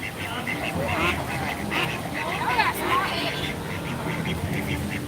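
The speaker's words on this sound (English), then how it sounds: "Got some ducks over here." Ducks quacking at Disney's Animal Kingdom, repeated nasal calls in quick bursts from several birds nearby, over a steady crowd hubbub and someone talking.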